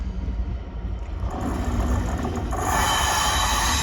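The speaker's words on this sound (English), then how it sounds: "Right, here comes our next locomotive of the day." A diesel locomotive approaching on a line in the West Midlands, a rumbling low drone that swells louder and brighter toward the end as it nears.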